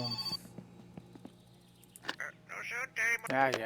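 A telephone rings several times in the video game My Summer Car, sharp repeated electronic bell tones in short bursts, followed by a person talking over the final rings.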